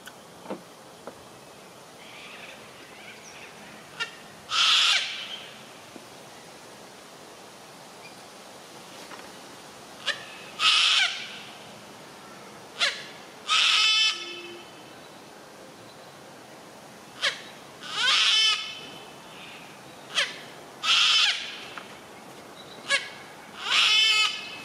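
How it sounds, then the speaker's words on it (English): Blue-faced honeyeaters give about a dozen harsh, rasping calls in short bursts at irregular intervals, fairly close and clear over quiet background, with no talking. "beautiful those birds. You know what they are? Blue-faced honey eaters."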